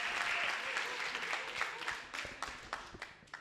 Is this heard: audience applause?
yes